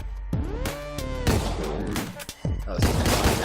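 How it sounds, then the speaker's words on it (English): Gunfire in the top-down shooter Deadbolt, a dense burst of loud overlapping shots and impacts with music underneath, nearly continuous from start to finish with no talk over it. "Shoot at the roof under the hockey guy's foot."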